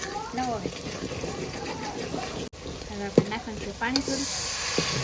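Oil sizzles and crackles steadily as palva fish fries, with stirring clinks and a voice talking over the cooking.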